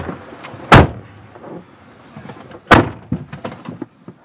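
A car door slammed shut twice about two seconds apart, each a loud close thud, with quieter shuffling and movement in between and no talking.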